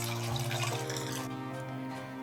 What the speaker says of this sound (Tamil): இப்போ கொஞ்சம் தண்ணி ஆட் பண்ணிக்கோங்க